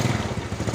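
A Honda Mio motor scooter's engine turns over on its electric starter and catches, giving a steady, close, low-pitched putter with an even pulsing rhythm and no talking over it.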